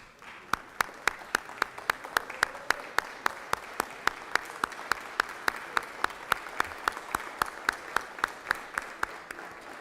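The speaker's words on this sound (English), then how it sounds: "Would you please give them a round of applause?" Applause in a state senate chamber during a legislative session, honoring guests in the gallery: steady, evenly spaced claps from a modest group, moderately loud and continuing for about ten seconds with no talking.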